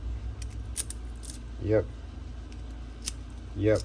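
Keys jangle in two short metallic bursts while Schlage deadbolts are being rekeyed, close and crisp, with small handling clicks between them.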